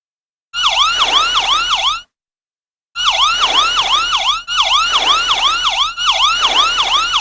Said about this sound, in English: Would you help Lenny sound his siren and use his hose to put out the toy fire?